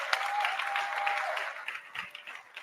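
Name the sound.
applause for the panel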